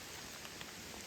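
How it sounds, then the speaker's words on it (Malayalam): Light rain drizzles in a soft, steady patter on a forested mountain road near Longwa, Nagaland. It is faint and heard alone. "മഴ ഇങ്ങനെ ചാറിക്കൊണ്ടിരിക്കുക."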